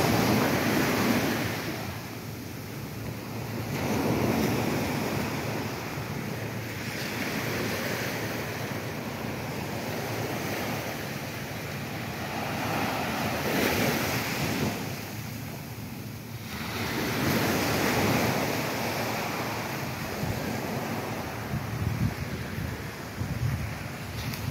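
Waves surge and wash onto Puting Buhangin beach in Cagwait, Surigao del Sur, Philippines, in slow repeated swells, a broad steady roar with wind buffeting the microphone, no voices.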